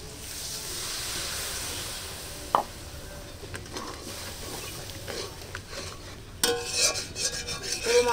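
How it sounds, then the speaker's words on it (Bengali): Spice paste for aloo biryani being stirred and fried in a pan, giving a steady sizzling hiss with scraping strokes, a sharp clank near the middle, and livelier crackling toward the end. "পুরো মশলাটা একটু ভালো করে কষিয়ে নেব"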